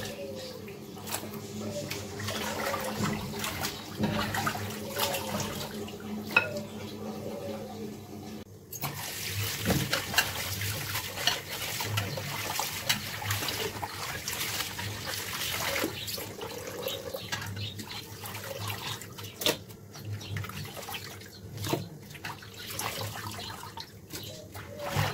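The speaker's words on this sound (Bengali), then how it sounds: "এখন ভালোভাবে ধুয়ে নিচ্ছি" Running tap water splashes steadily as meat is rinsed during Eid al-Adha cooking, a continuous watery hiss with occasional clinks and handling noises, and a voice talking faintly over it at times.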